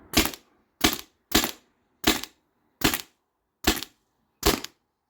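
A Tippmann TiPX paintball pistol running on CO2 fires seven sharp, snappy shots at a steady, unhurried pace, each a crisp pop that dies away quickly, close by with silence between them.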